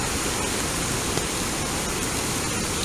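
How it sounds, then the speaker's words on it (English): A high river runs in full flow during rain, producing a dense, unbroken roar of rushing water that stays loud and steady from start to finish with no voices. "Look at this river flowing."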